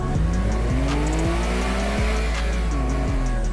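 Cars in the video game Teardown driving with engines revving and rising in pitch, tires squealing in repeated sharp bursts, loud and close throughout with no voices.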